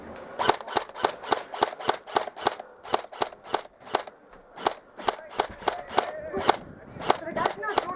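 Paintball markers fire in a rapid run of sharp, evenly spaced pops during a capture-the-flag game on a sawmill field in Texas, loud and close, with a brief pause midway and some background shouting.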